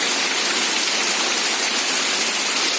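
Steady heavy rain pours down continuously, a dense close hiss with no voices, falling around old Rajdoot and Yezdi motorcycles.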